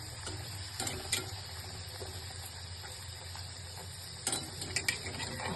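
Matar kachori, stuffed with green peas, frying in hot oil in a wok, giving a steady close hiss of bubbling oil with a few louder crackles and spits now and then.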